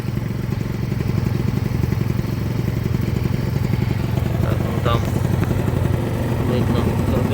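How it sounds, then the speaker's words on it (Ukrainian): A small Honda Gyro X three-wheeled cargo scooter engine idles steadily up close, a continuous throbbing putter with a brief clatter midway. "Послухайте, як працює мотор."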